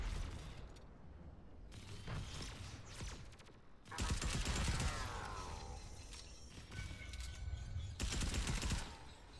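Sniper shots and other gunfire ring out in Fortnite as several sharp cracks and bursts at moderate distance over a noisy background, with no talk.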